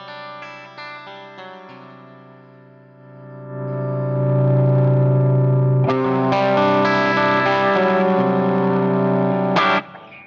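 Reverend BC-1 electric guitar played through effects with the treble bleed raised: sustained chords swell in with chorus and distortion, ringing loudly, then a bright new chord struck near six seconds holds until a sharp cutoff.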